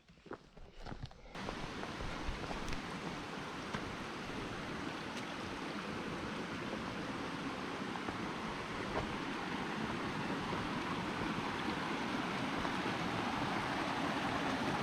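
Small waterfalls tumbling into little ponds beside a wooded trail make a steady, broad rushing of water that holds constant throughout, moderately close, with no talking.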